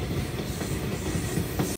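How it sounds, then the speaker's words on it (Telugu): A goods train passes on the adjacent track with a loud, continuous rumble and rhythmic clatter of wagon wheels, then cuts off abruptly at the end. "పక్క ట్రాక్ పైన అయితే గూడ్స్ అయితే వెళ్ళిపోతుంది"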